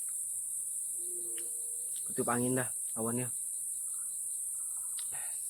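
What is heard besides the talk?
crickets chirping and birds in forest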